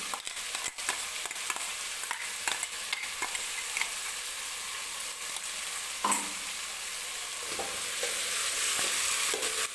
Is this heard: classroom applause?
no